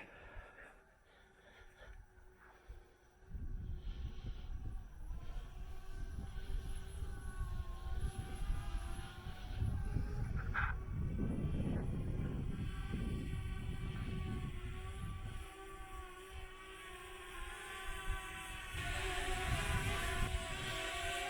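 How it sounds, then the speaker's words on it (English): A steady mechanical buzz drones overhead through outdoor ambience, growing louder and fading, while a person talks at times. "Hear the buzzing of the drone in the background."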